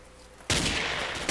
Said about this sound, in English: this dude is like literally shooting away the mountain